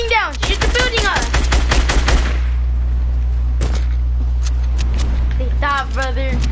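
Rapid video game gunfire aimed at a building, with dense bursts of automatic shots up front and scattered shots later over a steady game hum, while excited players talk over it.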